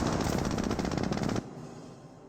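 Rapid automatic gunfire from a Jeep in the video game Company of Heroes, a dense, loud burst of rattling shots for over a second that cuts off abruptly, leaving a quieter background.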